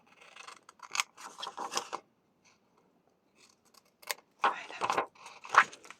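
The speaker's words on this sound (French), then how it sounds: "Maintenant, on va couper les petits coins." Scissors snip off the small corners of a 30x30 paper sheet in quick bursts of crisp, close cutting, with a short quiet pause in between.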